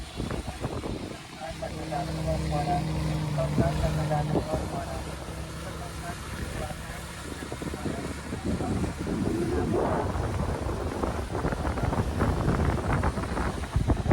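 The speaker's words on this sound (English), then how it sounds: "going to be windy, but there you go" Wind buffets the microphone with a steady roar throughout on a river, with people talking and a low engine hum in the background.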